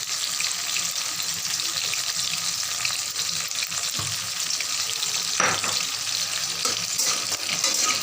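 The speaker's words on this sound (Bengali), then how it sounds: "বড়িটা ভেজে নিই, একটু সময় লাগবে বড়িটা" Steady loud sizzling of lentil dumplings frying in a pan, continuous throughout, with occasional light clinks of a utensil.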